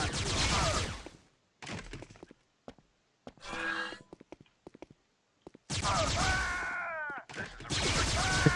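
Stormtroopers fire blaster bolts in the Star Wars PC game Dark Forces II: Jedi Knight, with sharp bursts of shots that come in clusters between quiet gaps, loud and near.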